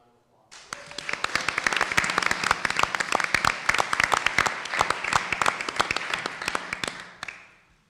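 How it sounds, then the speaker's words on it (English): An audience at a city council candidate forum applauds, a dense burst of clapping that starts abruptly, holds steady for several seconds, then tapers off, with no voices over it. "Please, a round of applause."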